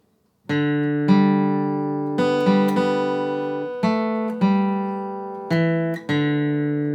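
A slow melody of Amazing Grace in single plucked guitar notes, each ringing clearly and decaying before the next, played alone with no voices.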